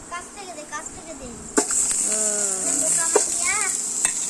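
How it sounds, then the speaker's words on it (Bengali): Onion hitting a hot pan with a sudden sizzle partway in, frying steadily for the rest of the clip while voices talk over it in a home kitchen. "পেঁয়াজটা ঝেলে দাও"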